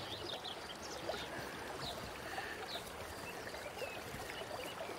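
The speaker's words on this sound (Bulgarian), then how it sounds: "Където тече повече вода и има повече камъни и пясък." River flowing over stones and sand, a steady broadband rush and babble of water, close and fairly faint, continuous with no talk.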